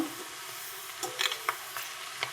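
Curry leaves frying in oil while a ladle stirs them, giving a quiet, steady sizzle with a few light scrapes and clinks of the ladle against the pan.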